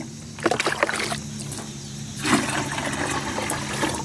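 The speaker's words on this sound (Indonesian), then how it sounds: "Sebelumnya kita isi dulu gembornya ya." Water splashes and gurgles into a watering can being filled for garden fertilising, with a low steady hum under it and uneven sloshing bursts, close by.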